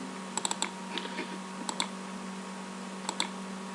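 A computer keyboard is tapped in short bursts of crisp clicking keystrokes, each cluster of two to four presses separated by pauses, close and fairly quiet over a low steady hum, with no talking.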